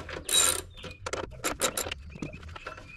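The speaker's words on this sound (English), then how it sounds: "first thing you need to do is remove the" A ratchet loosens bolts on the hood plate of a Mazda MX-5 Miata ND: close, quiet bursts of clicking and rattling spaced out with short pauses.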